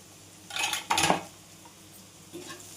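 A spoon stirs golden-fried onions with turmeric in a cooking pot, giving a few close metallic scrapes and clinks against the pot over a quiet kitchen background.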